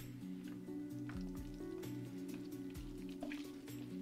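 Chicken pieces dropped into hot frying oil, a steady quiet sizzle with scattered pops and drips, no talk.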